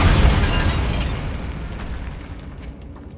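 A Bombarda explosion spell goes off in Hogwarts Legacy with one loud, close booming blast that rumbles and slowly fades over a few seconds. No voices are heard.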